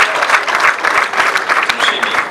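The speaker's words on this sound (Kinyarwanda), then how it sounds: "ndagira ngo mumpera amashyi mwese aba abanyeshuri n'ababyeyi" Students and parents applauding at a graduation ceremony: dense, lively clapping from a crowd, close and steady throughout, with a voice faintly audible underneath.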